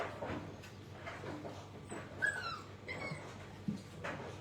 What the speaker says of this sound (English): Watch the puppies directly behind you, Mike.